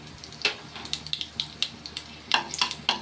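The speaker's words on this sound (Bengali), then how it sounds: "তাতে শুকনো লঙ্কা আর এই কালো জিরাটা ফোড়ন দিয়ে দিলাম" Dried red chillies and black cumin crackle in hot oil, a close series of sharp pops and spits with a low sizzle beneath, bursting irregularly and thickening toward the end.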